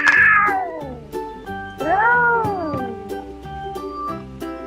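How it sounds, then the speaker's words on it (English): A cat meows twice, a long falling cry and then a rising-and-falling one, loud and close over light background music in a children's farm-animal sounds sequence. "Cat."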